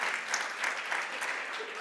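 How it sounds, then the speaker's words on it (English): Audience applause in a conference room for Liz Cheney, a steady dense patter of many hands clapping at moderate distance, with faint voices mixed under it. "am very pleased to hear Liz Cheney getting a lot of applause in this room"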